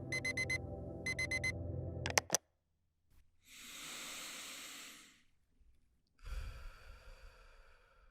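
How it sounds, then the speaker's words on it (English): An alarm clock beeping in rapid pulsed bursts, loud and close, stopped abruptly by a clack, followed by two long weary sighs in a quiet room. "Damn that stupid alarm."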